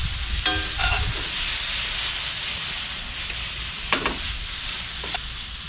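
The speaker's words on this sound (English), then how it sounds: "So now I'm going to hit these with the soy sauce." Charred shishito peppers in a hot pan sizzling after soy sauce is added, with a loud hiss and clatter at the start, then steady sizzling and a couple of scraping stirs.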